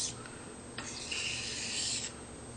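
A straight razor is honed on a water stone in a few quick passes, giving a soft, steady hissing rasp that rises in the middle of the clip and then fades, with no talking.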